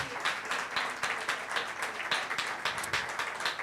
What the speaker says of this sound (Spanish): Démosle un aplauso al Espíritu Santo.